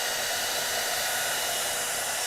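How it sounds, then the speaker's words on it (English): A DATRON machine's fan turned up to full force gives a steady, loud broadband whoosh of rushing air, close and unbroken, with no voices. "If I turn up the fan now"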